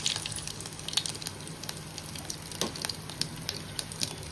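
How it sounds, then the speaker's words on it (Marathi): Cumin and whole spices sizzling in hot oil in a pan, a steady, soft crackling hiss with scattered sharper pops, close and fairly quiet, with no voices. "तेल तापले, तेलामध्ये मी थोडा जिरा टाकेल"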